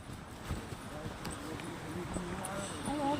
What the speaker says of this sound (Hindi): ये घोड़े हैं जिन पे हमने जाना।